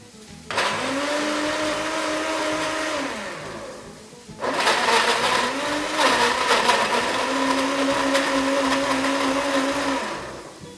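A countertop blender breaks up tomatoes for a Sicilian smoothie in two loud, close bursts. The motor whirs up, holds, drops off, then restarts and runs for several seconds with a shifting pitch as the contents churn.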